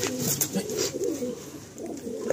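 Breeding pairs of pigeons give throaty coos in quick, overlapping bursts close by, with the last few softer.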